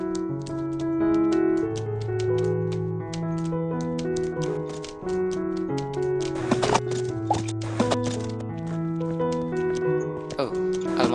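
Steady, quick clip-clop of horse hooves in the video game Horse Riding Tales, crisp clicks repeating under a continuous melodic game music track that fills most of the sound.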